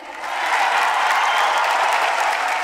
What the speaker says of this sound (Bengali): তালিটা আরেকটু জোরেই হোক।